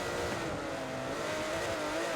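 Porsche GT3 race cars roar together in a racing video game. Engine noise stays dense and steady through a braking battle, with no voices over it.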